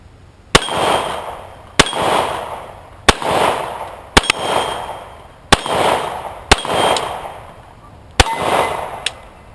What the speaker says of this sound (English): Colt Lightweight Commander. Shooting steel at 12 yards.